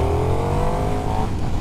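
A KTM Super Duke motorbike engine idles and revs in a racetrack pit lane at Jerez, a steady loud close-up drone with slight pitch rises and no speech.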